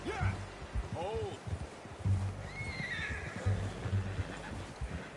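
A horse in the Red Dead Redemption 2 video game neighs loudly, with hoof clip-clops and a brief whinny, heard alongside male dialogue and outdoor ambience.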